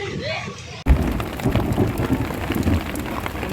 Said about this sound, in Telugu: మెరుపులతో భారీ ఈదురుగాలులతో వర్షం కురిసింది.